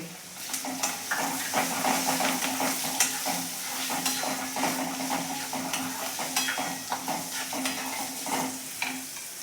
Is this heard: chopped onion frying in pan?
yes